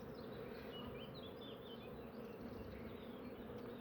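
Honeybees crawling on a beehive frame in spring make a soft, continuous buzzing hum, with faint wingbeat whines drifting in and out close by.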